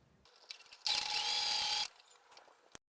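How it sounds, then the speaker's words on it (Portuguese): A sewing machine stitching fabric strips, with a single one-second burst of fast mechanical whirring between quieter clicks and handling sounds, close and fairly soft. "E vamos pra máquina pra costurar."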